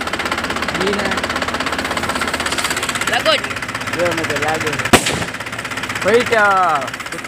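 One sharp Diwali firecracker bang cracks out loudly midway, over the steady rumble of an idling engine while people talk nearby.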